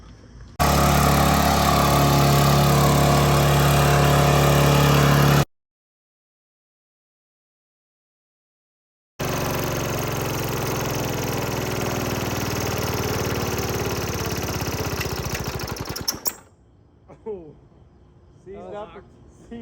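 A lawn mower engine runs loud and close at a steady drone, cuts out into several seconds of silence, then drones on again before stopping, leaving faint background sounds.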